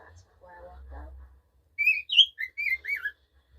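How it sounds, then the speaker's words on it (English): A pet bird sings close by in a string of bright whistled chirps and warbles, following a brief stretch of soft, low human talk. "Yeah, you sing pretty bird."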